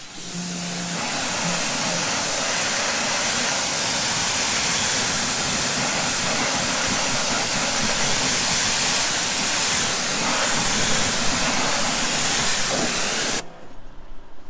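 A wheel and tire are rinsed with a steady, loud spray of water, a continuous close hiss that runs for about thirteen seconds before cutting off, with no talk.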